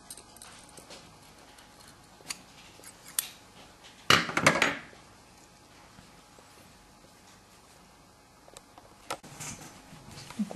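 Scissors snip at fabric seam corners while a removable Peter Pan collar from a sewing kit is made, giving a brief cluster of close, crisp cuts in an otherwise quiet room.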